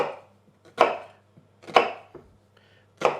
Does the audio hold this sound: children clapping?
no